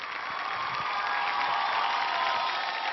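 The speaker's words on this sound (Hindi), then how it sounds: "अमर सेन जी, जोरदार तालियां इनके लिए।" A studio audience gives loud, sustained applause and cheering for a performer on a televised talent show, a dense continuous roar of clapping with no gaps.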